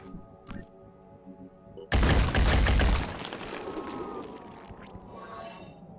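Gunfire in the turn-based tactics game Phoenix Point: a loud burst of rapid shots near the two-second mark, then a decaying rumble and a fainter tonal effect, with game music and ambience underneath.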